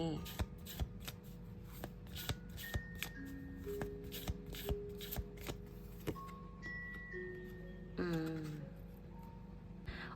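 A deck of oracle cards is shuffled by hand, with rapid riffling and soft repeated card slaps in close, steady bursts. Someone speaks quietly over it.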